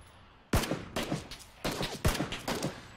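Gunfire in PUBG: several sharp, loud bursts of shots follow a short quiet start, coming in quick clusters with echoing tails.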